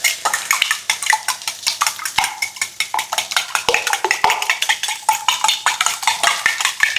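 Ingredients being stirred in a bowl during meal prep, with a utensil scraping and clinking in quick, steady repeated strokes at close range, alone without voices.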